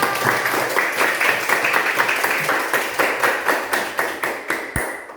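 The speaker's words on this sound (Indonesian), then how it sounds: "Oke, tepuk tangan buat kita semuanya" A class of students claps together in rhythmic unison, a series of sharp, evenly spaced group claps about twice per second, fairly loud and close, ending with one distinct tap.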